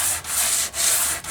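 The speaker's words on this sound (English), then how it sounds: "get on here and start sanding, get this thing nice and flat and level" Steady back-and-forth sanding of a wooden guitar neck to flatten it, three rhythmic rasping strokes with short pauses between, close and loud.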